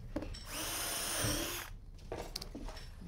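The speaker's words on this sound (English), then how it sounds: "I'll drill 4 holes in the cabinets and screw it from underneath." A power drill whines steadily for about a second, close by, drilling holes in a kitchen island cabinet, followed by brief clunks and shuffling as work continues.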